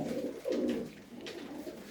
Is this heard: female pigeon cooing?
yes